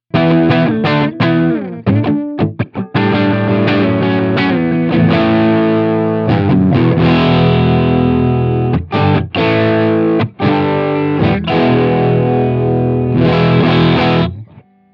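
Electric guitar played through an amp, a dense, dark, muffled distorted tone with chords and stops, continuous and loud for most of the stretch.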